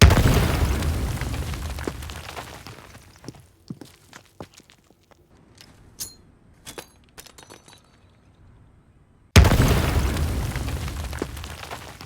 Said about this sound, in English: You can get as wild as you would like with your explosion designs